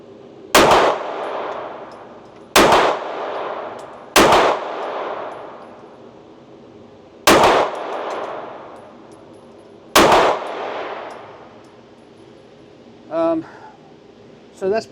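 Staccato XC pistol fired with match ammunition: five loud, sharp shots spaced slowly and steadily, each ringing off with a short tail, followed by brief faint clinks.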